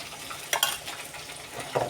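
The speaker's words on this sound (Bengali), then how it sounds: "এটা একটু ভেজে নেব।" Meat frying in a pan gives a steady close sizzle, broken by a couple of sharp scraping stir strokes. No one speaks.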